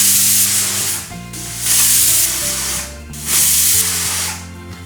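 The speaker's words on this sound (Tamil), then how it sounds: "மூணு விசில் வந்தாச்சு" Pressure cooker on a stove whistling as steam escapes while cooking carrot soup, three loud hissing bursts separated by brief quieter gaps.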